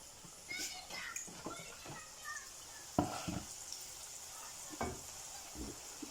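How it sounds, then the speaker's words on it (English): Chin chin, Ghanaian fried dough chips, sizzle and crackle in hot frying oil while a pan is stirred, with scattered pops and scrapes. Children's voices and talk are heard faintly in the background. "we are frying our last batch of the chips"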